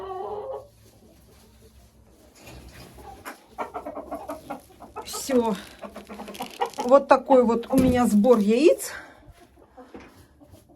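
Hens cluck and chatter in a coop, their calls rising into a busy, close burst of clucking, while someone speaks over them.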